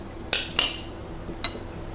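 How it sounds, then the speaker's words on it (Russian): Three sharp metallic clinks from a utensil scraping pumpkin into a buttered baking dish, two close together and then one more, each quiet in a still kitchen. "Перекладываем тыкву в форму для запекания."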